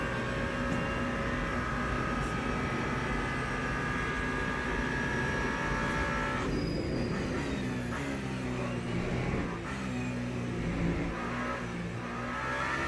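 Race car engine in the sim racing game Le Mans Ultimate, a steady loud drone with shifting revs and gear changes running continuously throughout, no talking over it.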